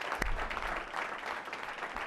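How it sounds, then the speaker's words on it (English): A brief burst of audience applause for students at a school board meeting, soft, scattered clapping from a modest crowd heard at some distance, with one sharper clap near the start. "a round of applause for our students"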